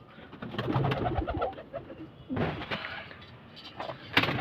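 Soft repeated cooing from a pigeon kept by a pigeon fancier, near and fairly quiet, in several throaty phrases with a brief rustle near the end.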